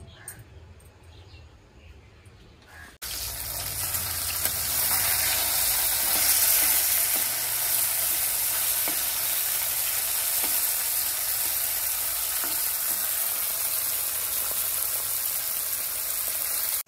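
Small puti fish frying in oil in a pan, a quiet start giving way to a loud, steady close-up sizzle that holds to the end.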